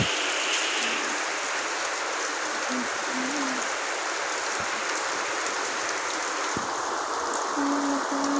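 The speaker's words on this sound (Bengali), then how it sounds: "বাইরে দেখছি এত জোরে বৃষ্টি নামছে বাইরে যাওয়ার আর অবস্থা নেই" Steady, dense hiss of heavy rain pouring down without pause, loud and close, with no voices.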